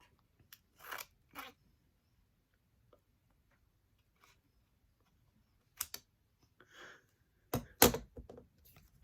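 Scissors snipping through a Pokémon trading card, a few short sharp cuts with gaps between them, close and fairly quiet with no talk.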